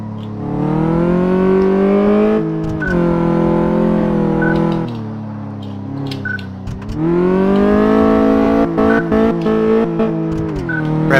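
A virtual car engine in Car Mechanic Simulator 2014 revs hard and bounces off the rev limiter, with repeated rising and falling harmonic engine tones and stuttering cuts, loud and close.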